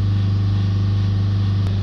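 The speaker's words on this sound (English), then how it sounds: "let's start it up. Hold the revs up around 3000 for somewhere between 2 to 5 minutes" A Ford diesel engine holds a steady, loud drone at raised revs around 3000 rpm, a constant close hum with no talk over it.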